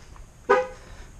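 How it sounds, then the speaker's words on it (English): A Tesla Model 3 locking with a single short horn chirp, a brief bright toot in the middle of an otherwise quiet moment. "So what we do, we lock the car"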